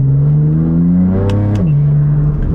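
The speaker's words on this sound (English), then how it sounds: "the exhaust note is just drowning out all the intake noises" A BMW F80 M3 with titanium front-mount intakes revs in Sport Plus mode, its loud, close exhaust drone rising in pitch, briefly easing, then settling back to a steady note, heard from inside the cabin without talking.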